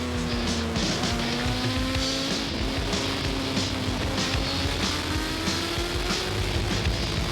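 A racing motorcycle at Virginia International Raceway during a 2005 WERA National 4-Hour endurance race, its engine a loud, steady onboard drone with pitch dipping and climbing through downshifts into the turns, no voices heard.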